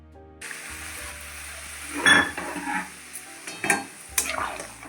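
Stirring Malabar spinach curry with mustard paste and water in a pan, with a steady close sizzle and several wet scraping strokes of the spoon, loud and without talk.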